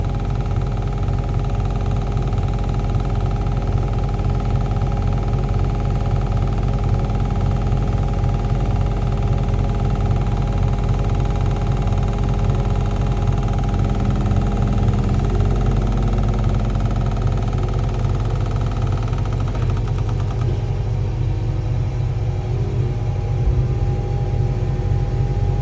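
A Liebherr LTR 1100 crawler crane with LICCON 1 control extends its telescopic boom section by section: a steady, loud, close engine hum with low rumble and vibration runs unbroken throughout, with no talk.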